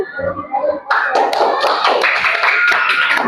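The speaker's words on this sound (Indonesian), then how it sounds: "Tepuk tangan." Students clap their hands in a classroom after a group presentation, a close, loud burst of quick overlapping claps that starts abruptly after a moment of background murmur and continues steadily.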